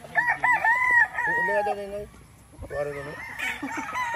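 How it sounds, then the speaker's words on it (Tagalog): A rooster crows loudly nearby on a gamefowl farm in Bicol, a long rising call followed by a second crow after a brief pause, with faint clucking between. "Grabe manok to."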